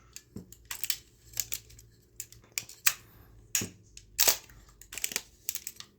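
Sharp mechanical clicks and clacks from a Minolta X-370n film camera, several in quick succession, close to the microphone, the shutter firing and winding, in otherwise quiet surroundings.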